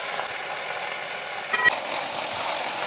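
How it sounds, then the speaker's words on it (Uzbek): Meat frying in hot oil with soy sauce for a Korean dish, a steady close sizzle with a brief stirring clatter partway through, no voices. "Qizib turgan yog'imizni go'shtni solamiz."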